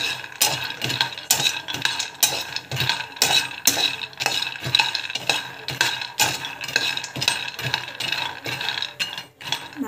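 Laddu mixture roasting in a pan while being stirred steadily, giving a continuous run of close scraping and rattling strokes in a quick, even rhythm, with no talking.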